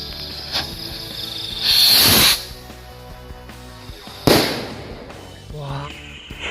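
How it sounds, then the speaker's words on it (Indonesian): A purple Hercules Rocket King Jumbo firework rocket is lit on New Year's: a fuse fizzes, then a loud whooshing launch roars for about a second, followed by a sharp bang that fades into crackling. "kita nyalain mercon Rocket King Jumbo dari Hercules"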